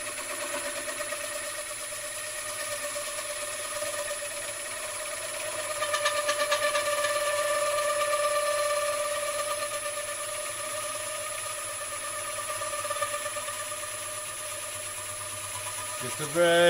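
A wood lathe spins a large platter while a freshly sharpened tool cuts, producing a steady mechanical hum with a soft scraping tone that swells in the middle, and a bump at the end.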